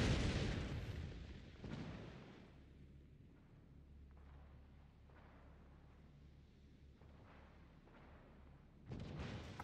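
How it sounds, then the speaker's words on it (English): Naval gunfire in World of Warships Legends, with heavy booming shots and rumbling impacts at the start and end and a sustained low rumble between them. "I'm just frantically shooting anything I can shoot at."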